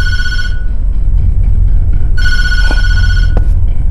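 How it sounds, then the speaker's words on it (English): Telephone ringing in the horror game Tattletail, loud and close, two electronic ring bursts separated by a pause, over a steady low rumble with a couple of faint clicks. "Pick up the phone."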